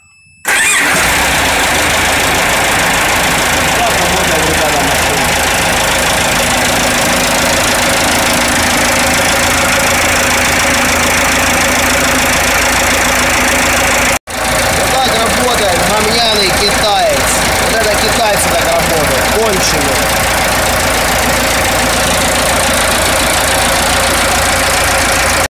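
A BAF Phoenix vehicle engine cranks, catches and settles into a loud, steady idle rumble that runs throughout, with a brief cut partway through.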